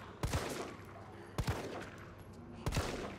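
Three separate gunshots ring out at roughly even intervals in the Resident Evil 3 Remake game, each a sharp crack with a short echoing tail over a steady background of game ambience.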